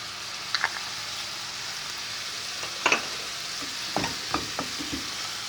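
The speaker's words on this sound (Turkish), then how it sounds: "İki dakikada böyle kavrulsun." Bulgur seasoned with curry roasting in a pan gives a soft continuous sizzle, with several short spoon scrapes and taps against the pan clustered toward the end.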